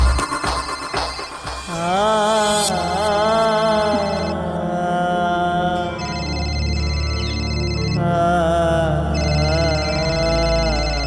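A telephone rings in a tense horror-film scene, a loud electronic ringtone pattern repeating in steady bursts over a sustained, dense musical drone for about eleven seconds, with no voices.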